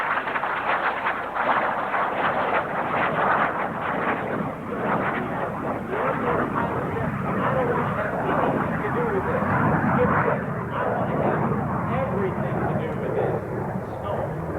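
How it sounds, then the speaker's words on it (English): At a 1995 aviation heritage air show in Clark County, Indiana, an aircraft flying an aerobatic half-Cuban 8 makes a continuous, muffled engine roar under loudspeaker commentary, steady for the whole stretch. "He'll roll the aircraft now into the upright position for the half-Cuban 8."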